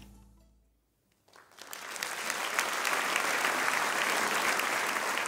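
At a Prešov regional award ceremony, a quiet moment gives way to a crowd's applause. The clapping swells quickly and then holds as a dense, steady ovation until the end.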